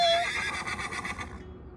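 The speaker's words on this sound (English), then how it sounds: "Every morning, I'm enthusiastically greeted by Sparrow as I come out to feed." A horse whinnies loudly at morning feeding time on a chilly autumn day, one clear neigh that trails off over about a second and a half with no talk.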